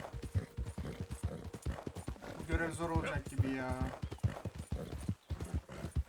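Horse hooves clip-clop at a steady riding pace in Red Dead Redemption, with a brief whinny partway through and someone talking over the top throughout.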